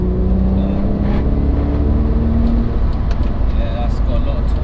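Engine of a 460 bhp Audi B5 RS4 droning low and loud from inside the car, with steady rumble under constant road noise while people talk over it.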